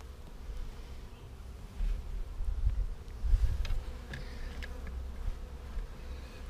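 Bees buzz around an open hive in a bee yard, a dense close hum that swells and fades as insects pass near, with faint handling noises beneath.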